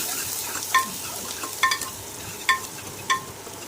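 Finely chopped onion and curry leaves frying in a pan, a steady hiss of sizzling oil with a few sharp spatula knocks against the pan, close with no talking.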